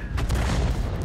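An artillery shell lands in a World of Tanks battle with one heavy, muffled boom that rolls on as a dense low rumble through the whole moment.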